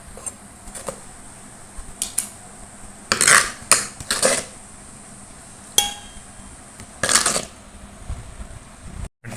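Mashed drumstick-leaf spinach is scooped into a vessel, with scattered metallic clinks and scrapes of a utensil against metal pots, a few sharper bursts among quieter gaps.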